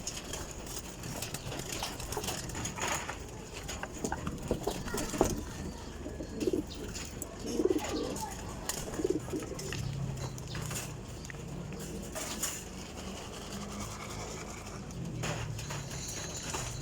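Pigeons cooing in soft, low repeated calls amid steady background hum, moderately close and not loud, with faint shuffling; no speech.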